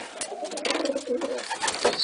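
Pigeons cooing in a breeding loft, several soft, throaty coos overlapping close by with faint rustling and wing movement, continuous and fairly quiet.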